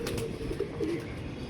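Soft throaty cooing of a pigeon kept outdoors, a few low warbling notes at moderate distance, with no talk over it.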